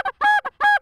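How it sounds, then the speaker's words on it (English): A pleading goose comeback call is blown on a handheld goose call. Loud, close honks come in a quick short-long, short-long rhythm, with no other sound. "you want to do a comeback call, something that's real pleading to get those birds to turn and come back to your spread"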